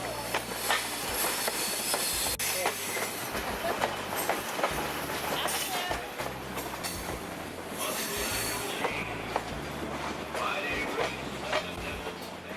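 Riding aboard a moving train, railroad cars clatter with rhythmic clickety-clack of wheels over rail joints and occasional squeals, a steady rolling rumble underneath, with faint voices of passengers now and then.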